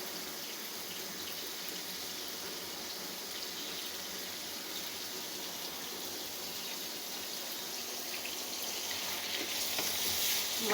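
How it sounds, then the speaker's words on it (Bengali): Fish cooking in a pan with tomato, onion, garlic and spices, a steady quiet sizzle and bubbling that swells slightly toward the end, with no talking. "মাছ টমেটো পেঁয়াজ রসুন মশলা যা লাগে জাল দিচ্ছি এখন।"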